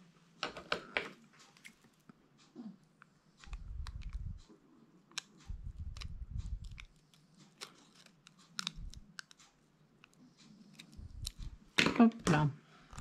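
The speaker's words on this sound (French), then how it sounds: "Peut-être découper les bords." Scissors snip the edges of a sheet of paper in a run of short, crisp cuts, close to the microphone, with a voice talking in between and a busier burst of snipping near the end.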